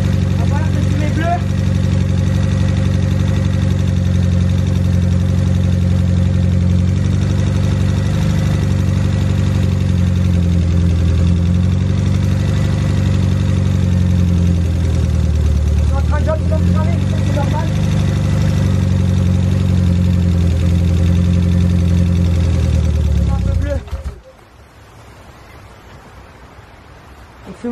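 A Volkswagen Golf 2 with a turbo engine, just rebuilt and puffing blue smoke, idles with a loud, steady, close rumble for most of the stretch before cutting off abruptly near the end.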